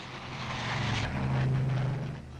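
Propeller transport aircraft of the Berlin Airlift, military and civil planes such as the RAF York, Halifax and Viking, drone in a steady, loud engine roar that swells and holds throughout without any voices.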